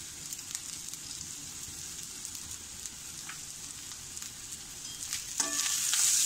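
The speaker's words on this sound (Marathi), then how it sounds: "आपल्याला भात सतत असा ढवळत राहायचा आहे" Rice tossed in a hot tempering in a pan over a low flame, a continuous crackling sizzle with scattered ticks of stirring, close and steady, rising louder near the end.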